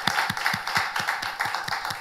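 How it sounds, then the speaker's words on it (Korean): A church congregation claps together in a steady, rhythmic beat during worship, the claps evenly spaced and close, filling the room with no voices over them. "우리 살아계신 하나님께 영광의 박수 올려드리겠습니다."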